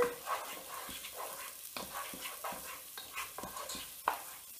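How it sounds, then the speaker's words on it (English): Onion and garlic being stirred in a sautéing pan, with repeated scraping strokes and a soft sizzle underneath, close and steady with no talking. "In with our onion right now, we are going to put in also our garlic. Just give this a stir"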